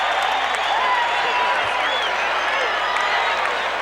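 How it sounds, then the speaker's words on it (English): Baseball stadium crowd at a Royals at Angels game reacting as George Brett heads to the on-deck circle, a steady dense roar of cheers and whoops that holds at a constant level throughout. "This crowd reacts as George Brett goes to the on-deck circle"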